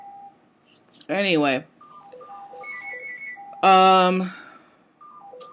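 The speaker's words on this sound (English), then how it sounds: "Sorry about the phone, I'm just going to let it ring." An electronic telephone rings repeatedly in the background, its short, high, bleeping tones running faintly between two loud bursts of someone talking.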